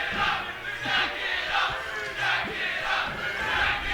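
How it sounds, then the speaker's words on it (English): At a Super Smash Bros. Melee tournament, a large crowd cheers and chants in a steady rising and falling rhythm, loud and continuous, with no commentary over it. "Crowd's getting very excited."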